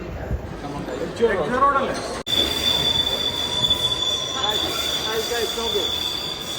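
A train rolls along with high-pitched wheel squeal and a steady rumbling hum, heard from on board, with people talking in the background.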